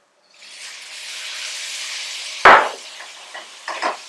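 Chopped tomato dropped into a pan of cooking onions: a steady sizzle, then a loud close thump and burst of hiss as it lands, followed by a few softer knocks and crackles.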